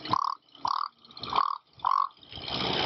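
Four evenly spaced croaking calls from a Wacky Whistle, made by rolling the tongue, imitate a frog, each short and throaty, followed by a breathy rasp at the end.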